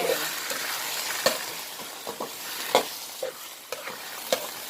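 Chili paste and pork stir-fried in a pan, with a steady sizzle of frying and scattered sharp scrapes and clacks of a utensil stirring, close and alone.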